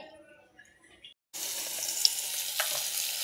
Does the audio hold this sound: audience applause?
no